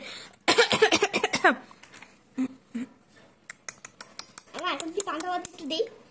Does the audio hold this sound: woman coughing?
yes